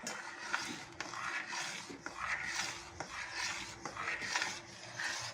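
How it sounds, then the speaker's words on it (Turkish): Chocolate and butter stirred in a pot, with a steady rhythmic scraping of a utensil against the pot sides and bottom, soft and close, about once per second, with no talking. "Arkadaşlar koyduğumuz çikolatayı ve tereyağını karışması için biraz karıştırıyoruz."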